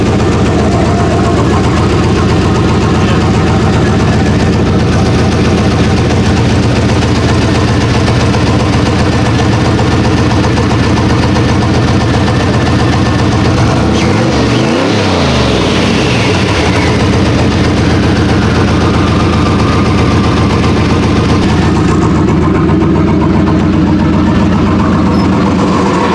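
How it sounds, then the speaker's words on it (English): A single cab truck idles with its exhaust cutout open, giving a loud, continuous, deep rumble close by with one brief low swell partway through. "It even sounds better with the cutout open than it did."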